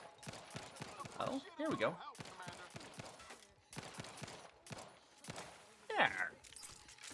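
Shots from Zane's pistol in the video game The Outer Worlds 2, a run of sharp bursts mixed with other game effects, heard under a player's voice talking.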